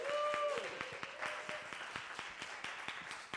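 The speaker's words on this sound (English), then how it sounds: "A huge round of applause once again for him." Applause from a session audience after a talk on mobility in Mexico City, fairly soft clapping with distinct individual claps at a steady pace and a brief voice at the start.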